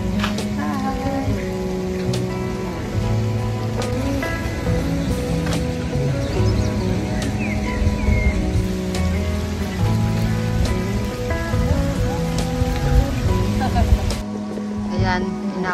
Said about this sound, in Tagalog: Ayan, inaabot na ako ng ulan.